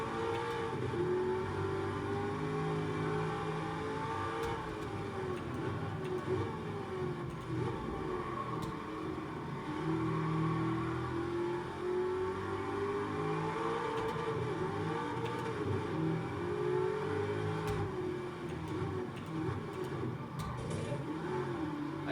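A Camaro Z01 engine in a racing video game drones steadily, its pitch rising and falling as it revs through gear changes, a constant loud motor hum with no talking.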